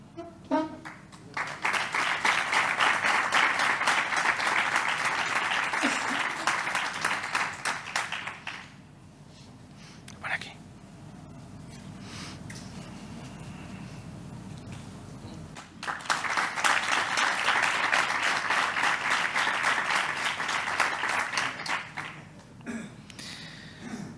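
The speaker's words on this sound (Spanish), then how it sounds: "Fuerte aplauso." Loud, sustained applause fills an award ceremony honouring civil protection work, dies down to a quieter murmur, then swells again into a second long round of clapping.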